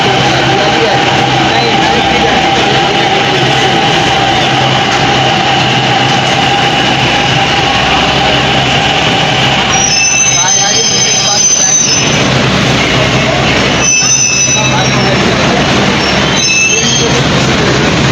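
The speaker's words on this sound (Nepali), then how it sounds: "उताबाट आइरहेको छ ट्रेन चाहिँ।" A metro train arriving near Darjeeling's MG Road rumbles in close and loud, its wheels letting out shrill squeals in bursts toward the end over a steady mechanical drone.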